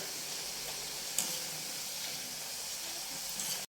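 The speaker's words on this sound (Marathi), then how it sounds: "कडक होईपर्यंत पाच दहा मिनिटं चांगले तळून घ्यायचे" Banana slices fry in hot oil for banana chips, giving a soft, steady sizzle and hiss that continues evenly throughout.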